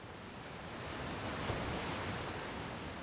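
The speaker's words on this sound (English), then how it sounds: "Another waterfall." Steady broadband rush of a waterfall in the video game Outer Wilds, a continuous even roar holding at moderate level throughout with no voices over it.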